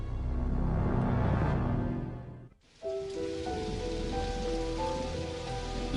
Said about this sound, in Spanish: La lluvia que cayó la noche del asesinato de Janet Kirby dificultó las cosas a los investigadores